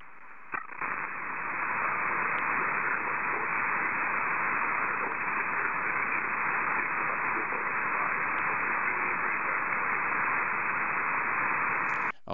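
A weak amateur radio signal buried in band noise under poor conditions, heard as a steady, loud band-limited hiss of static filling the whole stretch with no clear voice rising above it.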